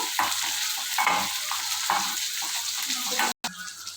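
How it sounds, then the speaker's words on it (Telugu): Cumin seeds, curry leaves and chopped onion fry in an oiled pan, a constant close sizzle broken by regular scraping strokes of a spoon stirring roughly once a second, with a brief gap near the end. "కొంచెం సాజీరా కరివేపాకండి ఇవి కొంచెం ఫ్రై చేసుకుందాము"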